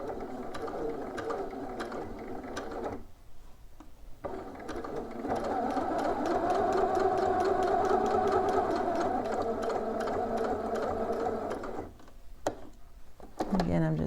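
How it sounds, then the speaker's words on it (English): A sewing machine edge stitching a pair of shorts, running in a long steady whir with short pauses, fairly close and moderately loud, with pins being removed along the way. "you want to kind of take edge stitching slowly, because you really want to get as close to the edge as possible without going over"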